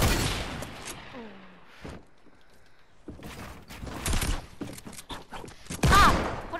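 Gunfire bursts in a Fortnite match, with sharp, clustered shots and rattling fusillades coming in uneven bursts, mostly in the second half, with a quiet gap in between and occasional voices mixed in.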